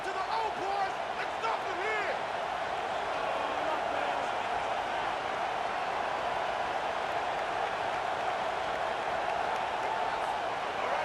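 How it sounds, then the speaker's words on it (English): A stadium crowd in the video game NCAA College Football 25 roars steadily and loudly for the whole stretch, a dense unbroken wash of cheering with a faint voice underneath. "The crowd elevating its energy, willing this defense to get a stop on this big third down."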